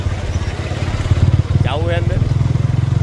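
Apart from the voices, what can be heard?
motorcycle traffic at night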